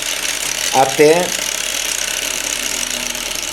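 An angle grinder motor runs at reduced speed under a speed controller, giving a steady low hum throughout, with a single short spoken word near the start.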